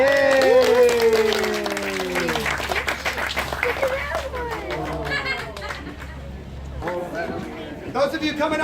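An audience at an alligator wildlife show at Gator Park claps and cheers, with a voice and excited crowd chatter layered over the scattered applause.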